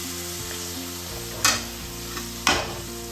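Yogurt-and-ghee marinated goat meat hits a hot pan, a steady loud sizzle over low hum, with two sharp bursts of hissing spatter about a second apart as pieces land, no voices.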